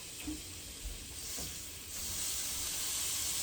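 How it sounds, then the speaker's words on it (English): Skewers laid on a pan greased with nonstick spray, a soft hiss that swells into a steady frying sizzle and holds, with a couple of light clicks of placement early on and no talk. "You can hear that sizzle."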